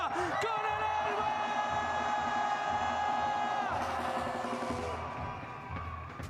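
Large crowd at a Valorant Masters Santiago watch party roaring and cheering loudly, with sustained voices and whoops rising together, then gradually fading near the end.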